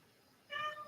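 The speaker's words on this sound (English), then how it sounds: "my cat is here" A domestic cat lets out one short, faint meow in a quiet room, rising briefly near the end of the moment.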